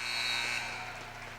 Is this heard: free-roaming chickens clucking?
no